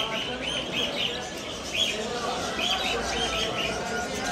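Small birds at a Bursa pet market selling budgerigars, parrots and canaries chirp and tweet in bright, repeated bursts over a steady crowded-market background hum.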